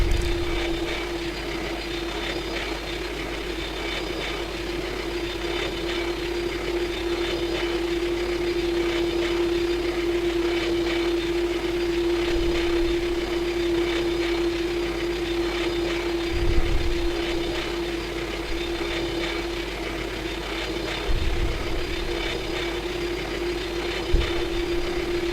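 Engines of a Qantas Boeing 737-800 hum steadily in flight in Flight Simulator X, a continuous drone with a constant tone that never lets up.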